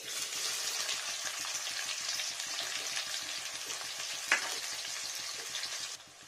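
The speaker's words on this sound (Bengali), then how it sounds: "তেলটা গরম হয়ে গেছে ঠিকঠাক, আর একটু গরম হয়ে যাও। এখানে দিয়ে নিচ্ছি পেঁয়াজ" Sliced onions hit hot oil in a pan, raising a loud, dense, continuous frying sizzle with one brief clink midway before the noise drops off at the end.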